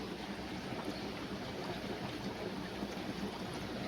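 Water gushing steadily from an opened valve at a plant, a continuous broadband rushing flow holding a constant level throughout, with no voices.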